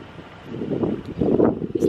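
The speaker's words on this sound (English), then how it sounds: "It's nice and windy." Gusty wind at White Sands National Monument, New Mexico, buffeting the microphone in low rumbling surges, growing stronger toward the end, with no clear talking.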